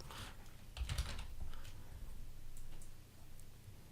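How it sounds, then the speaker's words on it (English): Quiet clicks of computer keyboard typing come in short bursts of quick keystrokes, close and soft, with pauses between runs and no voices. "I can't apparently type very well"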